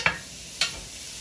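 A ribeye steak is laid into a hot pan over medium-high heat, producing two brief sharp hissing sizzle bursts about half a second apart, close and clear, with a quieter background after each.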